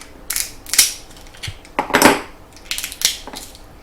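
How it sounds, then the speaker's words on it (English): A cooked crab claw knuckle being cracked open, a few sharp crunching snaps and creaks in quick succession, close up with no talking. "we'll just do a little crack on the knuckle and get that last piece out there."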